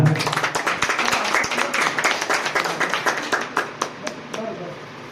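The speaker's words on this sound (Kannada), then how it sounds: "ಜೋರಾಗಿ ಚಪ್ಪಾಳೆ ಕೊಡ್ತಾರ." Audience at a journalists' day function in Bagalkot clapping steadily in rhythmic, fairly close applause for about five seconds, with voices mixed in underneath.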